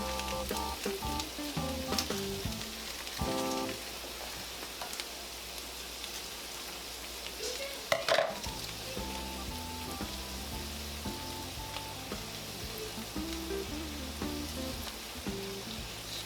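Meat seasoned with ramen seasoning fries in a pan, a continuous sizzle with occasional stirring scrapes and one sharp clatter midway, softly under background music.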